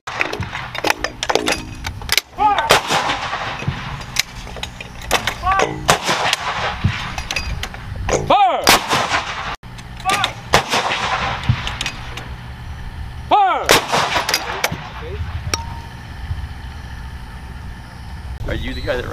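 A ceremonial gun salute at a change-of-command ceremony, with several loud sharp reports spaced seconds apart over a murmur of voices and outdoor background noise.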